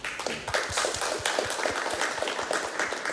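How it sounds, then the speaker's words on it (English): A crowd applauds steadily, dense clapping with some louder individual claps standing out, sustained throughout. "A round of applause,"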